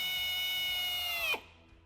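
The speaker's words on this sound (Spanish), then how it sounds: "Con la ayuda de un taladro," A power drill held running at steady speed for about a second and a third, close and loud, then cut off abruptly with a falling whine as it spins down, used while fitting a tow hitch and wiring kit on a 2020 Suzuki Swace.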